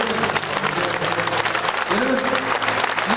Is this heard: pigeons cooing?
no